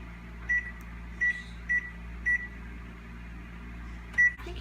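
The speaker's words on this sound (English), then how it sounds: "you set the timer on the microwave" A microwave oven hums steadily while its timer is set, with five short, sharp beeps from the keypad at irregular intervals over the drone, nearby and alone with no talk.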